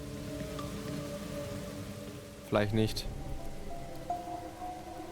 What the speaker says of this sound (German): hier wird Regen hergestellt